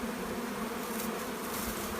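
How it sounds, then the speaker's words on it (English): Honeybees feeding on sugar syrup in winter, crowding around wooden floats with straw laid around the feeder, give off a steady, dense buzzing hum that carries on evenly throughout, close by and unbroken, with no voices. "the bees come in to feed on the syrup, and they get pretty excited"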